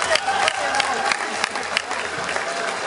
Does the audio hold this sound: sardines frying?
no